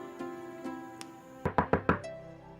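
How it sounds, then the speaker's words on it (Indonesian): Four quick knocks rap on a wooden door, close and fairly loud, after a few soft taps over light background music. "kayaknya dia ngetok pintu ya?"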